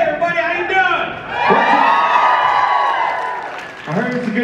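A fan convention audience at a Supernatural event in Minneapolis cheers, whoops and applauds in a loud, sustained swell that fades and then picks up again near the end.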